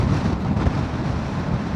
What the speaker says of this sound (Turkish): İnanılmaz bir rüzgar var şu an köprüde.